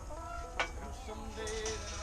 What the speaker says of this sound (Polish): Kury pomału wracają.